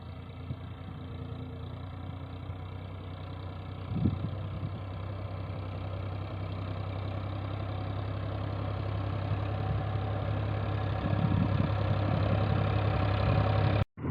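A tractor engine idles steadily nearby with a deep, constant rumble and faint rattles, ending abruptly.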